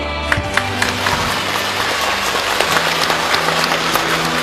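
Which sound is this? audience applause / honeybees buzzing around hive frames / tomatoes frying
audience applause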